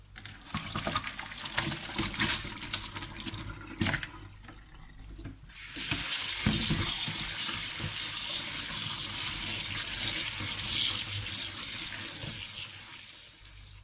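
Pickled bamboo shoots are washed under a running kitchen tap, a steady close gush of water into a sink that briefly stops and then resumes louder and continuous.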